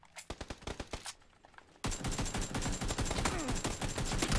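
Rapid bursts of automatic gunfire in the shooter game PUBG on Xbox One, with a few sparse shots, then a dense, sustained volley of loud overlapping shots.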